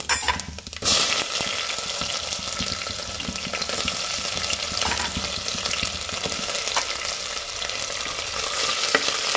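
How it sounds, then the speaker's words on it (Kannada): Onions and chana dal fry in a pan with a dense, steady sizzle and crackle, close and continuous, after a brief clatter at the start. "ಕಡಲೆಬೇಳೆ ಸ್ವಲ್ಪ ಫ್ರೈ ಆಗಿದ್ದಾದಮೇಲೆ ನಾನು ಈರುಳ್ಳಿನ ಹಾಕ್ತಾಯಿದ್ದೀನಿ"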